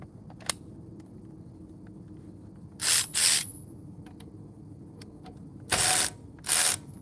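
A 3 amp battery fitted to a cordless impact wrench loosening a bolt on a van, heard as two short bursts of rapid hammering, each a pair of quick pulses, several seconds apart against a quiet workshop background.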